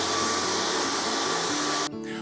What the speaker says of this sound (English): keep hoovering up those little bits as you go.